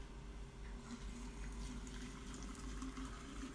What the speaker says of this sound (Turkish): Hepsini sürahide birleştirip üzerine kaynar suyumuzu dökelim.